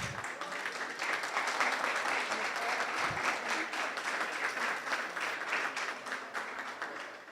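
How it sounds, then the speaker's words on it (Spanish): A forum audience claps for an introduced speaker, a full, sustained round of applause lasting several seconds at a steady level and fading slightly near the end. "Entonces les pediría un aplauso para ella."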